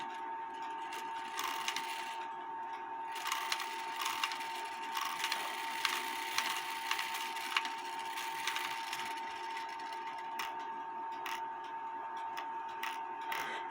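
An 1860 Black Forest wooden clock movement being tripped gives off rapid clattering, ratcheting wooden clicks and gear chatter over a faint steady tone, close and fairly quiet, with no speech.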